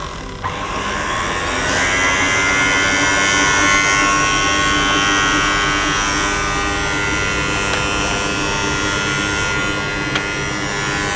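A kitchen stand mixer runs on its slow setting, kneading bread dough with oil, giving a loud, steady motor whine that holds continuously with no talk over it.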